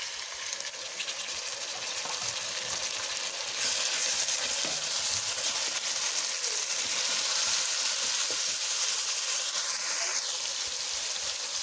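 Chopped tomatoes, three medium ones, drop into onions frying in a pan for a quick egg dish, and a loud, steady sizzle swells and stays bright throughout with occasional stirring scrapes, no talk.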